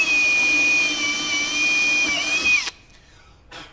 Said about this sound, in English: come on the center of one of these in the straight line, pre-drill a hole